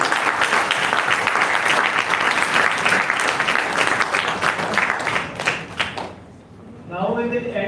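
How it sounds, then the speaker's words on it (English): Students and committee members at a supply chain round table conference receive a long round of brisk applause that tapers off near the end, followed by a voice starting to speak. "So a big round of applause to all our dear students and all the FORSE committee members."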